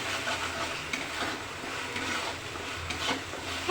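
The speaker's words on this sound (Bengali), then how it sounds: "একটু নেড়ে নিলাম" Potatoes frying in a pan are stirred, a soft continuous sizzle with quiet scraping and rubbing strokes, fairly faint and with no talking.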